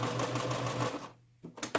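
A sewing machine runs steadily as it stitches a yarn cake cozy, a continuous close mechanical whir that stops abruptly near the end, followed by a short burst of handling noise.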